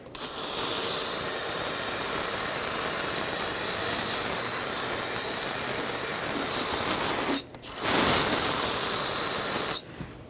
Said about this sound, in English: I'm going to spray some brake parts cleaner to eliminate any drippage